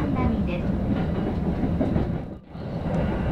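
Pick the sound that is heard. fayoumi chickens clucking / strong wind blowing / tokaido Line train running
tokaido Line train running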